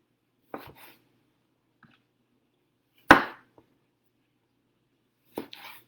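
A sharp knife chops tomatoes into chunks on a cutting board, with three isolated, crisp cuts spaced apart in an otherwise quiet kitchen; the middle stroke is the loudest.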